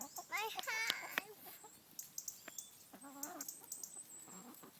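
A pet chicken clucks and squawks up close in a series of short calls, with quieter clucks and scratching noises between them.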